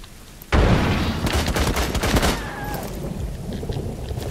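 Gunfire from players in a team-based shooter video game erupts suddenly as a loud, dense burst of shots, then thins into a quieter rattling tail.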